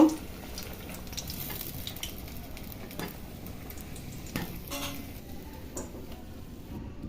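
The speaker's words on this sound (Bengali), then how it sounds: "এই দেখুন ডিম পকোড়াগুলো ভাজা হয়ে গেছে" Egg pakoras fry in hot oil with a quiet, steady sizzle, broken by occasional ticks and light clinks of a utensil in the pan.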